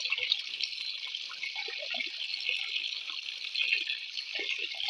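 Tap water runs steadily into a sink while fish pieces are rinsed, a continuous close hiss with small splashes and clinks from the handling, no talking.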